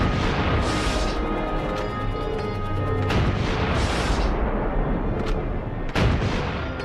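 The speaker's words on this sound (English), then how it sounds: "February 8th, 1945, Allied guns open fire." Allied artillery guns of 1945 fire in a heavy, sustained barrage of overlapping booms and blasts, loud and dense throughout, with sharper reports standing out now and then.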